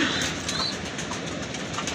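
A pair of Afshan grizzle pigeons kept with their chicks in a pigeon keeper's loft coo among other birds, a steady, dense murmur of bird sounds filling the whole two seconds without pause.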